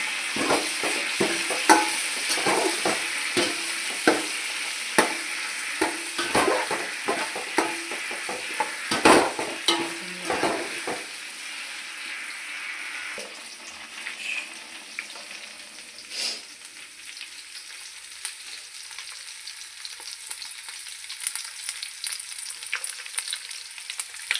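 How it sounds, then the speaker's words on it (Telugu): Vegetables for sambar fry in a pan while being stirred, with repeated sharp scraping clicks of a spoon over a continuous sizzle that grows quieter and sparser in the second half. "మంచిగానే ఫ్రై అయ్యాయి"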